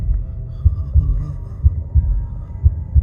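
Heartbeat sound effect, a steady series of deep, thudding low-frequency beats about twice per second over a droning hum, with no voices.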